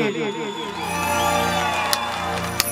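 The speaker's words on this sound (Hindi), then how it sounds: "जोरदार ताली है" Sustained cheering and whooping from a crowd at a melody group stage show, with tonal shouted voices over a low hum and a couple of sharp clicks near the end.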